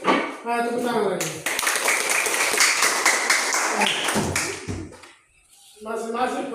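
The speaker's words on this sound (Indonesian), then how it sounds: "Tepuk tangan lagi." A group of students claps hands together in an Indonesian PJOK physical education class, a dense burst of rapid applause lasting several seconds before it stops, with a teacher's voice speaking before and after.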